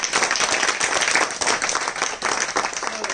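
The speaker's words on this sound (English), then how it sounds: "Let's give her a big round of applause for that." An audience applauds after an internship presentation, dense steady clapping filling the room at close range for the full few seconds with no talk over it.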